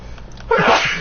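A single sharp sneeze bursts out after a quiet lead-in, close and loud, with faint background hum.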